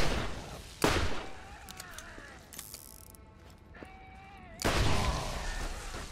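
Grenade blasts and mechanical clatter in the shooter video game Borderlands, with two loud broadband bursts bracketing a quieter stretch of whirring, ratcheting game effects.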